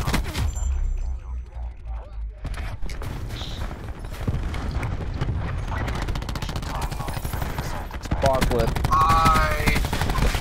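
LMG machine gun fire in a Hardpoint match of a shooter video game, loud rapid bursts crackling on and off over dense game noise, with a voice talking over parts of it.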